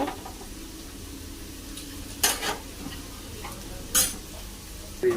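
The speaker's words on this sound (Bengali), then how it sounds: "পেঁয়াজটা ভাজা হয়ে গেছে এবার দিয়ে দেব মাংস" A pan of onions sizzles with a steady frying hiss as meat is added, while a utensil scrapes and stirs in a few sharp bursts; no voices.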